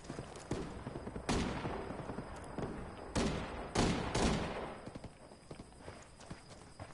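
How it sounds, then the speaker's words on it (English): Gunfire in a tactical shooter video game under sniper attack: several sharp, loud shots and bursts cracking out at irregular intervals, with quieter clatter and small impacts between them. "it feels like a sniper shooting at me"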